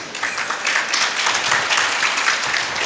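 An audience at a Devi Bhagwat Katha religious discourse breaks into sustained applause, dense overlapping claps filling the room at steady loudness.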